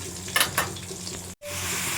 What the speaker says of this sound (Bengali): মাছ ভাজার কাজটা চলছে